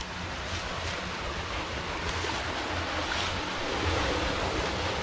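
Steady broadband rush of a small waterfall, continuous and fairly loud, with a slight swell toward the end and no voices.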